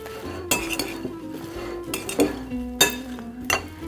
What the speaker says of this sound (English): We're going to fluff this and mix it.